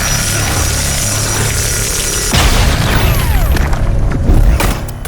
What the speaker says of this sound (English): I figured the explosion would cover a large enough range.